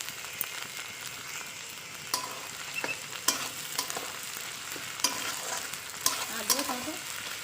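Onions, capsicum, tomato and green chilli fry in a pan with a continuous close sizzle, broken by scattered clicks and scraping knocks of a stirring utensil.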